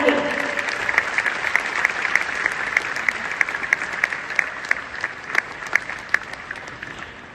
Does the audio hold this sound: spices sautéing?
no